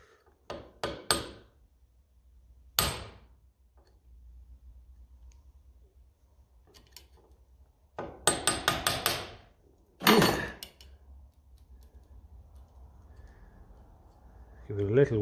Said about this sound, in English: now we're hopefully going to have reduced the amount of whacking we need to do